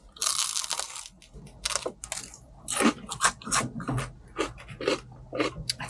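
Someone bites into a crispy pizza crust and chews, giving a close, loud series of irregular crunches, broken by short pauses, with no talking.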